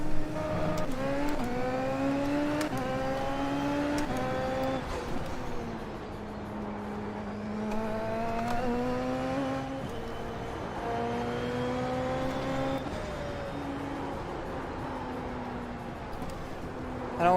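Race car engines in F1 24 surge and climb through repeated gear changes at a green flag restart behind a pulling-in pace car, rising pitch sweeps layered continuously with no talk.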